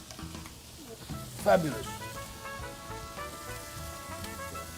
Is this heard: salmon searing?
yes